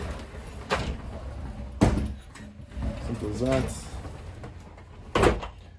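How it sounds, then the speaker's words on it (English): Sliding doors on a 2022 Forest River Lacrosse 3411 RK travel trailer glide and knock shut in a few brief, close thuds and rattles, interleaved with a man's speech. "Then you can slide the doors."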